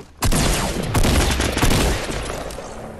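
Rapid bursts of automatic rifle fire from a Fortnite match ring out loud and dense, several volleys overlapping with booming echoes, then tailing into a lingering rumble.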